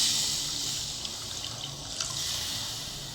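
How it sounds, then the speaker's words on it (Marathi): Water poured into cooked masala for paneer butter masala gravy, a steady broadband splashing stream lasting the whole moment, close and fairly loud with no talk. "आता यात आपण ग्रेव्ही पुरतं पाणी घालून घेऊ"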